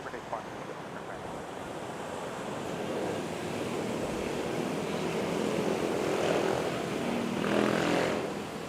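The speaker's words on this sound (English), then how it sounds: "Let's catch this takeoff." An airplane taking off at Manila Airport, a broad rushing engine roar that swells steadily louder over several seconds, distant at first and building, with faint radio chatter beneath.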